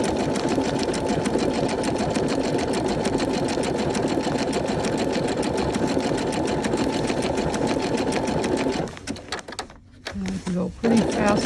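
A sewing machine stitches a feather stitch on fabric in a steady, fast, close mechanical whir of rapid needle strokes, then stops and starts in a few short bursts near the end.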